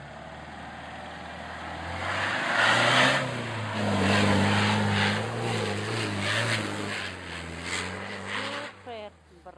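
A vehicle engine on a mountain road in Vitosha drones and revs steadily, rising in pitch and holding under strain before easing off, close and fairly loud with people talking over it.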